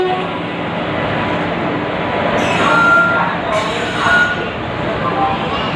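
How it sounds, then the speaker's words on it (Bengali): The Teesta Torsa Express pulls out of Naihati station with a continuous rolling rumble, metallic clanks and brief higher tones over platform noise, with voices mixed in. "ট্রেনটা ঠিক সময়ই নৈহাটি স্টেশন থেকে ছেড়ে বেরিয়ে পড়লো"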